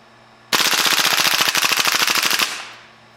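A KWA LM4 gas blowback airsoft rifle empties its magazine in a single loud, rapid full-auto burst of about two seconds, with evenly spaced sharp cracks and a short trailing hiss, heard alone.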